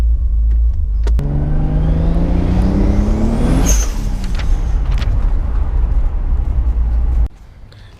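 A turbocharged 2JZ engine in a Lexus IS300 roars loudly at close range, revving up with a rising whine and then dropping, before cutting off abruptly near the end.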